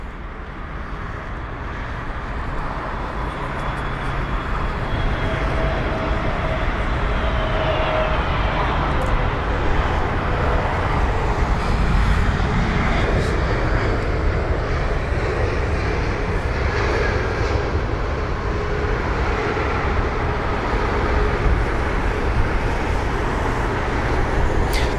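An Airbus neo airliner lands at London Heathrow, a loud, continuous engine roar and rushing rumble that holds steady for the whole stretch, with faint whining tones drifting over it.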